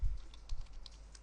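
Quick keystrokes on a computer keyboard as a file name is typed, a short burst of a few soft clicks close by with no talking.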